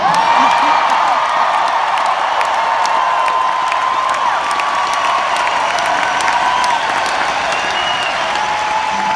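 Concert crowd at a show in Duluth, Georgia, applauding and cheering: dense, steady clapping with whoops and shouts layered throughout, loud and continuous for the whole stretch without letting up.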